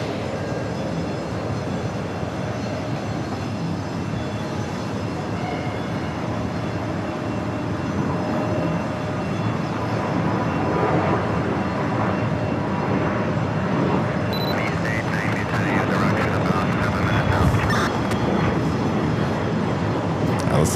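ITA Airways airliner on short final to runway 4 right at JFK, a broad engine rumble swelling gradually louder as it nears, with voices talking over it.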